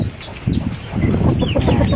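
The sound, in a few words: wild chicken clucking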